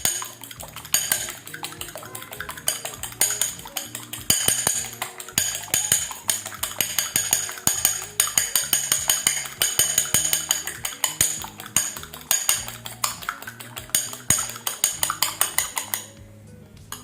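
Whisking a jelly cake mixture in a bowl, with dense, steady metallic clinks and scraping of a utensil against the bowl, close and continuous throughout.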